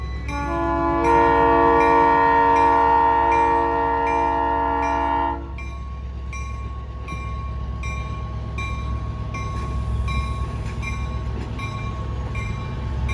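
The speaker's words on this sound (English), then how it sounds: "There goes the train." A loud train horn blares steadily for several seconds in Old Sacramento, then a heavy train keeps rumbling past nearby with rhythmic clacking.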